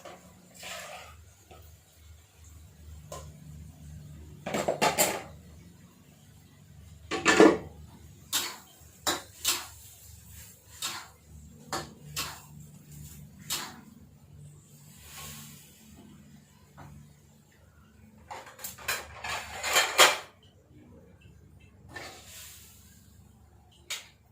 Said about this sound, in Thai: พยายามจะผัดกะเพราปลาหมึกไม่ให้น้ำมันออกเยอะนะคะ